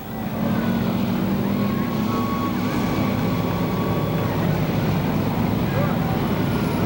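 Sportsman division stock cars roar around Seekonk Speedway during a 50-lap feature, a loud, continuous engine drone with a commentator talking over it and wind buffeting the microphone.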